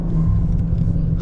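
A BMW M340i engine gives a deep, loud intake rumble from inside the car, a short steady low growl.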